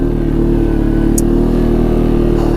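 A 2016 Arctic Cat XC 450 4x4 runs at a steady idle, its engine putting out a loud, close, even low-pitched putter with regular firing pulses and a brief faint click partway through.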